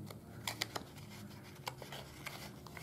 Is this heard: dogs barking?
no